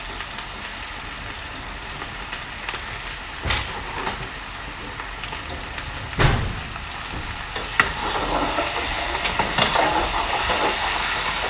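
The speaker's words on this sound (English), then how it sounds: "So I'm going to get a spoon, stir this up" A spoon stirs BBQ sauce over bologna in a hot pan, a steady close sizzle with occasional clinks and scrapes that grows louder toward the end.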